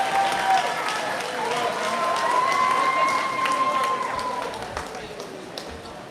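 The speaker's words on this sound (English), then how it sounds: "give them a round of applause" Graduates at the Albertus Magnus Class of 2023 ceremony applaud their parents and families, a broad wash of clapping and cheering from a large crowd that swells and then gradually tapers off, with whistles and voices rising above it.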